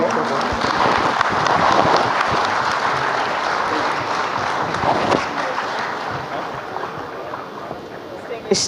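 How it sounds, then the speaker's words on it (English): Audience at the 2022 Ehingbeti Lagos Economic Summit applauds the moderator and panelists, a dense, sustained wash of clapping from a large crowd that carries steadily for the whole stretch and tapers slightly toward the end. "please can we applaud the moderator of session and all the panelists once again"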